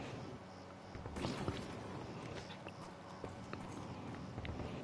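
Horse hooves clip-clop in the Western action game Evil West, a steady run of near, distinct hoofbeats over a busy game soundscape.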